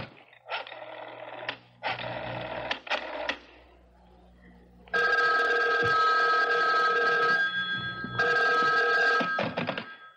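An old-fashioned telephone bell rings in repeated bursts, loud and close, with short pauses between rings and a steady electronic tone during the later rings.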